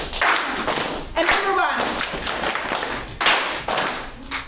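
A group clapping hands together in time during a participatory event, sharp unison claps landing in a steady beat with short gaps, while a leader speaks over the rhythm.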